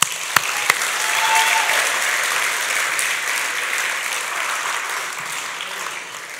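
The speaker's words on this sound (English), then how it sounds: "Give these guys a round of applause." An audience gives a round of applause at a celebration gathering, a dense, steady wash of clapping that starts strong and carries on without letup, with a couple of sharp claps near the start.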